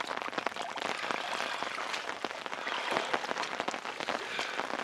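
Steady rain falling outdoors on a cold November day, a dense continuous patter of drops on surfaces close by, filling the whole stretch with no voices.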